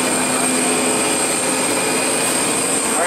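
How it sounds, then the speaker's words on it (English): Steady, loud roar of an express train from downtown Toronto pulling into the airport rail station at Toronto Pearson, a continuous broadband rumble with a high tonal whine throughout and no talk. "you see the train coming into the station from downtown Toronto"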